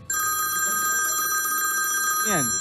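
A telephone rings loudly and steadily with a continuous electronic bell tone, close by, then cuts off abruptly with a falling squeal as it is answered.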